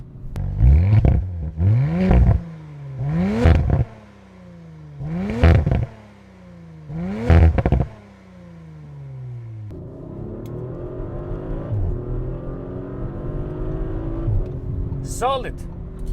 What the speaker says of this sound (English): Solid acceleration from this RS4.